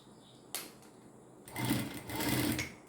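An electric sewing machine stitches blouse pieces together in two short, loud, rapid runs of needle chatter, preceded by a single click and a quiet pause.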